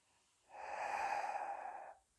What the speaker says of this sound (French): Vous entendez cette respi?